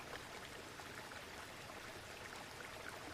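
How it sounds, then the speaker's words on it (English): Steady rushing of a waterfall, a soft continuous wash of falling water with a faint pattering texture, unchanging and free of speech. "we will immerse ourselves in the calming presence of a waterfall"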